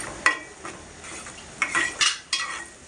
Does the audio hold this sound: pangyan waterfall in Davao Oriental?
no